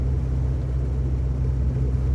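Morris Minor engine pulling uphill in fourth gear, a steady low drone and rumble heard from inside the car, constant and fairly loud with no talk.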